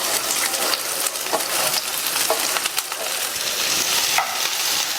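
Small-cut okra pieces fry in hot oil in a pan while being stirred, giving a constant close sizzle with scraping and clacking from the stirring.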